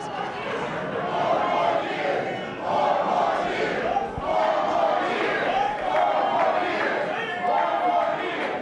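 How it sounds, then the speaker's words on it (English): Large political rally crowd cheering and chanting four more years, a loud rhythmic chant repeating in waves, distant and reverberant, with a voice talking over it. "a bunch of fucking robots cheering 4 more years"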